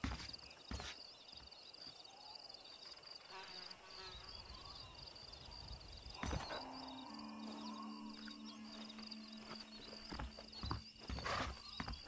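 Horses' hooves clip-clopping in the Western video game Red Dead Redemption, fairly faint steady hoofbeats over a buzzing insect-like background, with a few sharper knocks and a short tonal whinny-like sound midway.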